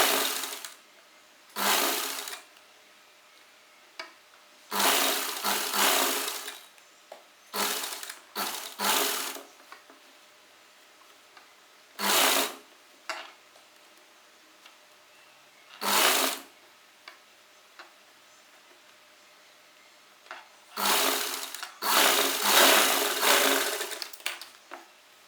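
A sewing machine stitches pleats on an Afghani salwar in short whirring bursts of a second or two, separated by quiet pauses, close up with no talking.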